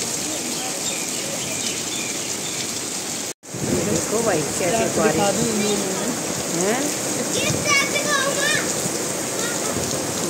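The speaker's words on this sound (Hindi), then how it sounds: "इतना तूफान की तरह बारिश आई" Steady heavy, stormlike rain in a housing society hissing loudly throughout, with a person talking over it and faint bird calls in the background.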